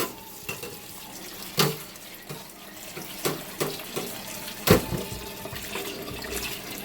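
Tap water runs steadily into a sink while chickpeas are rinsed for a spicy jerk BBQ dish, with a few sharper splashes and clunks breaking through the continuous close stream.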